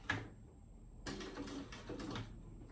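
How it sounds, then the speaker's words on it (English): A sewing machine stitches rows on a commuter bag, running in two brief bursts of rapid mechanical whirring after a short click, with a faint steady hum between them. "I'll do 2 rows of stitches"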